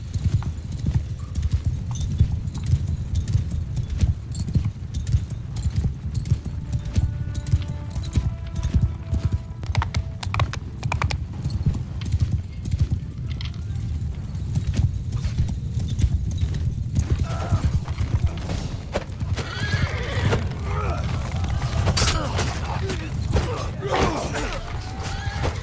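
Mount and Blade II: Bannerlord battle audio: hooves clip-clop continuously near and loud, with occasional horse whinnies, creaking gear and clanking mechanisms mixed in over a low rumbling backdrop.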